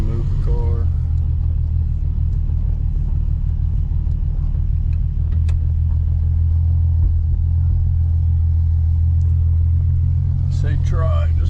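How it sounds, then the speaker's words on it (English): A Nissan Z32 idles and creeps forward with a deep, steady low rumble, its tone shifting slightly as it moves, while a person talks nearby. "So now we're going to try to move the car."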